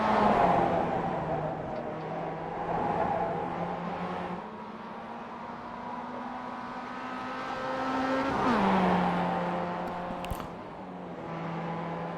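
Mazda MX-5 Cup race cars driving through a turn on a circuit, engines droning and shifting pitch as they accelerate, swell past and fade, with higher revs near the end and faint commentary beneath.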